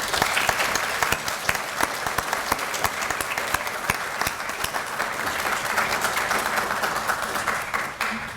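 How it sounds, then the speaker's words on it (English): Crowd applause for mayoral and city commission candidates at a Muskegon meet-and-greet, dense, sustained clapping with sharp individual claps standing out across about eight seconds. "Let's all give them a great round of applause."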